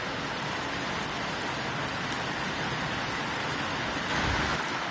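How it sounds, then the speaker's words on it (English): Rain falls outdoors as a constant, even hiss of drops hitting surfaces, moderately loud and unbroken, with a slight swell near the end. "Oh look, it's raining."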